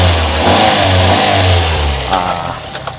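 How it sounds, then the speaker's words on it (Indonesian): A Daihatsu Luxio X engine revs up loudly and then settles, a steady strong hum with a rising rev that eases back toward idle, heard up close without speech. "cari mesin yang masih enak begini"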